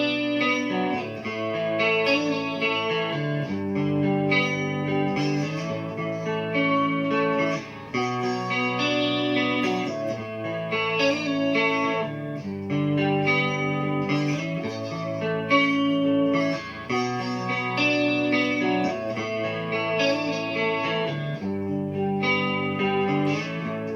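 ESP LTD SnakeByte electric guitar, a signature model, played clean on the neck pickup: steady strummed chords and picked notes ringing continuously with light effects, close and even in level.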